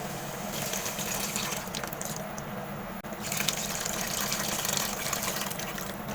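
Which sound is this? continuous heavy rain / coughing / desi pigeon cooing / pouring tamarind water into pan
pouring tamarind water into pan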